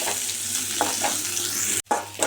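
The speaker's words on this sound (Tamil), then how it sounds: "புதினாவை சேர்த்திட்டு நல்லா மிக்ஸ் பண்ணிவிட்டு நல்லா பச்சை வாசம் போகிற அளவுக்கு வதக்கிக்கலாம்" Mint leaves sauté in oil with garlic, producing a dense, loud, even sizzle with a few soft stirring scrapes and one brief cut-out before the frying resumes.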